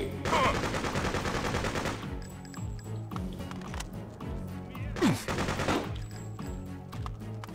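Machine gun fire rattles in the Freedom Fighters video game, two dense bursts of rapid shots with an explosive blast among them, set against a low background game hum.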